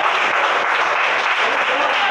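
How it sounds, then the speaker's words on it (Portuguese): Church congregation applauding for Jesus during an evening evangelical service, a dense, steady wash of many hands clapping throughout, close and loud with no pauses. "Palmas para Jesus."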